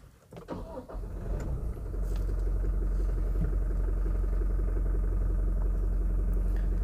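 A Toyota Fortuner 2.4 VRZ 4x4 diesel, 2020 facelift, cranks briefly and catches, then settles into a steady low idle heard from inside the cabin, with no talk.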